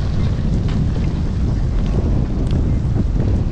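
Gusting storm wind and heavy rain at the Mumbai waterfront near the Gateway of India, a loud steady roar buffeting the microphone with occasional sharper gusts, no voices.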